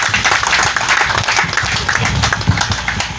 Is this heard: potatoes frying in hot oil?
no